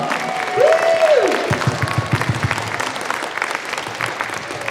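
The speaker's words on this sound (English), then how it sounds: "if we can have a massive round of applause for Nigel Thorne" Sustained applause from a gathered crowd at an outdoor rally on public steps, a loud dense wash of clapping with a brief whoop near the start, continuing steadily throughout.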